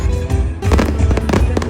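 Fireworks bursting at a nighttime outdoor event, a loud, dense run of sharp cracks and booms overlapping one another with a continuous rumbling crowd-and-echo background.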